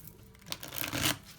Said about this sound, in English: I'm going to shuffle 2 more times and take the top 3.